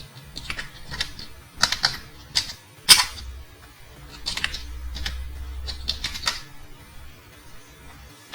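Typing on a computer keyboard while filling in an online degree certificate application form: irregular bursts of close, crisp key clicks with brief pauses between, under quiet speech.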